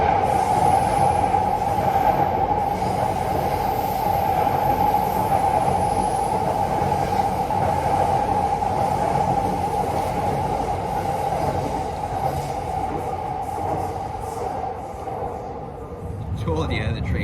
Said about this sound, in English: Told you the train went by.